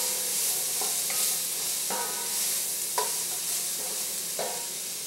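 Asparagus and other vegetables sizzle in a frying pan for a vegan Thai curry, with steady frying hiss and several distinct scraping stirs at irregular intervals, close and moderately loud, no talking.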